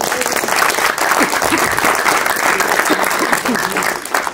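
An audience at a Lyon lecture event gives a guest speaker dense, sustained applause, a loud continuous wash of many hands clapping from a full room, with faint voices mixed in.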